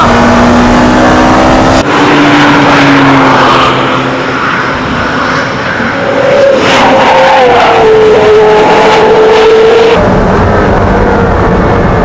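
A sports car engine roars loudly and continuously, pitch climbing and falling as it accelerates hard with the rear tyres sliding, close by with no talking.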